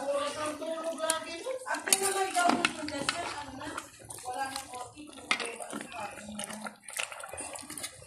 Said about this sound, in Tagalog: Hinalo ko na po mga kaguro para mapailalim yung ating pechay